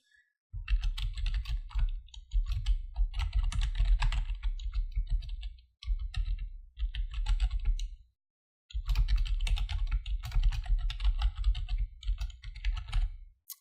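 Typing on a computer keyboard while entering a file name at a desk, with steady bursts of fast key clicks in several runs separated by short pauses, close and fairly loud with no talking.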